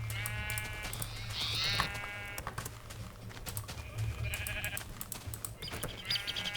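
Several sheep bleat in the video game Minecraft (Tekkit Classic mod), their wavering cries coming in separate bursts over a steady low game hum with light clicking.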